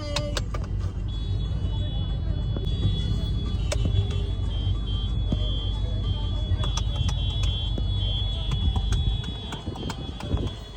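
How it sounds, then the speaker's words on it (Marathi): A crowded road traffic jam produces a continuous dense rumble of engines and vehicles. Scattered clicks and knocks sound over it, and the rumble eases slightly near the end. "गर्दी झाली ट्रॅफिक झाले कसं अडकले"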